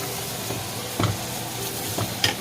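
Smoked duck, its fat drained off, sizzles in a pan with minced garlic and chili powder while being stirred; a constant close frying hiss carries several distinct scraping stir strokes, with no voices.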